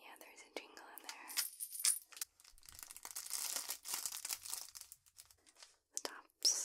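A crinkly, jingly toy is handled close up in a quiet room, producing crisp crinkling and rustling with faint jingles between pauses, while a soft whispering voice is heard.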